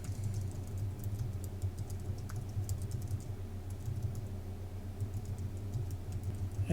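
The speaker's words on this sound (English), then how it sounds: "Then it's just really a matter of typing." Steady typing on a computer keyboard, quick light clicks running continuously over a low background hum, fairly faint with no talking.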